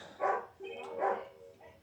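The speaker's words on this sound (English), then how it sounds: "Sorry if you hear my dog." A pet dog barks twice in short bursts, fairly close but muffled behind an online chat during a Phoenix Wright: Ace Attorney playthrough, with a faint voice in between.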